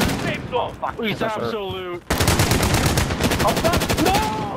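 Rapid video-game gunfire in bursts, loud and close, with quick automatic shots that grow denser in the second half while players shout and talk over them.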